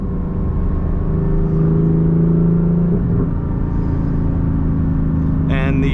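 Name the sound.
Porsche 718 Boxster Spyder DeMan 4.5 engine while driving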